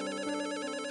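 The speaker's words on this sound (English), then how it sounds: "A phone call at this time?" A telephone rings in the video game Despair, an electronic warbling trill repeating rapidly and steadily, clear and alone with no voices.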